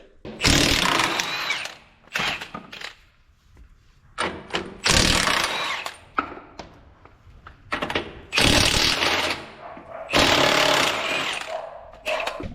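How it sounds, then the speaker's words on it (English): Bolts on the cutting edge of a John Deere 550G dozer being loosened with a loud impact tool, in several hard, rattling bursts separated by short pauses. "Let's get the bolts loosened."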